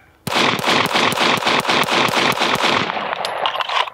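Rapid gunfire in a timed shooting run on a range, about a dozen sharp loud shots in quick, even succession, followed by faint ringing and trailing clatter.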